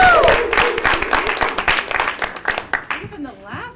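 Audience applause at a stand-up comedy club, with scattered claps that thin out over a few seconds while a host's voice talks over them.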